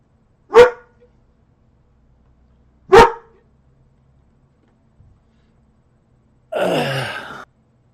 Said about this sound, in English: My dogs are chiming in.